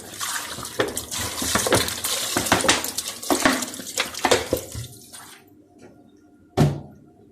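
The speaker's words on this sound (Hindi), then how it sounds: "पानी डाल रही हूँ इसमें।" Water splashes and pours into a pot of mutton korma with raw mutton, onion, garlic and ginger. It comes in close, busy bursts for about five seconds, then stops, followed by a single sharp clink near the end.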